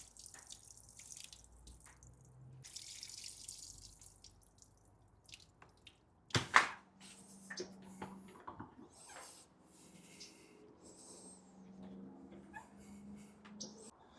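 Excess water trickles and drips intermittently from an overwatered cabbage pot at close range, with soft splashes and one sharper knock partway through; quiet, no voices.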